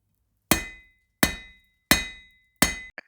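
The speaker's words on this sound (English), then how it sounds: "Jurgen hammered the metal for the axe blade" A hammer strikes a metal axe blade four times at an even pace, each blow a sharp, close, ringing clang that fades before the next, followed by a small metallic tick at the end.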